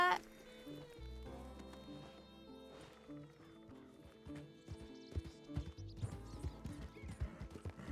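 Horse hooves clip-clopping at a close, uneven trot, with a horse whinnying and some clattering between the footfalls.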